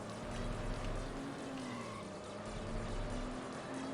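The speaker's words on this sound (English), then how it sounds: "this game still gives me a hard time with shifting, purely because the engine sounds are not consistent enough" Car engine in the racing video game Need for Speed: High Stakes, a steady droning hum with slight pitch shifts as it runs, continuous and fairly loud, with no talk.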